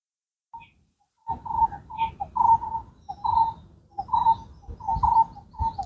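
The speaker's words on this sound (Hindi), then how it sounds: "देखिए ये चिड़िया लगातार बोल रही है।" Birds calling outdoors, a continuous run of mellow cooing notes that begins after a short silence and repeats in uneven clusters, close and clear with little background noise.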